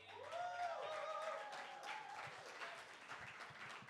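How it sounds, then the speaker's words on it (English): Audience at a faith-based poetry event gives a round of applause, scattered clapping that builds into a fuller patter after a brief voice at the start, moderately distant and fairly faint in the room. "Can we get a big round of applause for all who have touched the mic tonight?"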